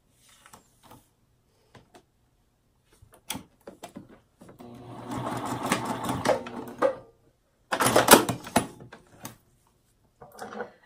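A sewing machine stitches along the side of a zipper on fabric for an ID badge holder, running in a few close bursts separated by quiet pauses and small handling clicks, with no talk.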